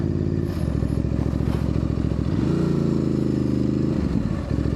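A Ducati DesertX motorcycle ridden off-road at an adventure camp, its engine droning loudly and steadily up close, pitch rising as the rider accelerates midway, with faint rattles and clatter over rough ground.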